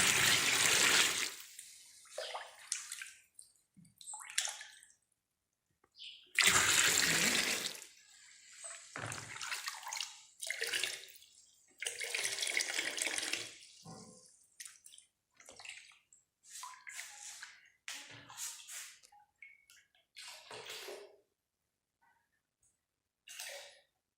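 Water poured in bursts into a homemade liquid air freshener mixture, 2.5 liters added in several loud splashing pours separated by pauses, with softer trickles and dribbles between them.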